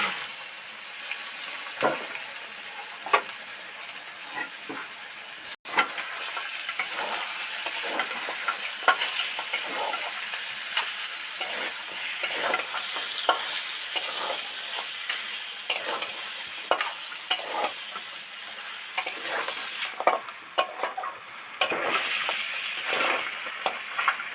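Sea crab is fried and stirred in hot spiced oil in a pan, giving a steady, loud sizzle with repeated scraping strokes throughout and a brief sharp knock early on.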